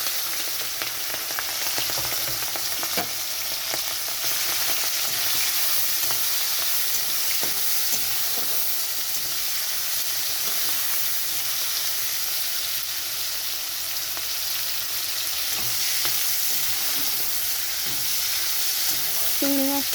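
Prawns fry in hot oil with nigella seeds, whole dried red chillies and green chillies, giving a dense continuous sizzle close up, with light stirring clicks and no talk.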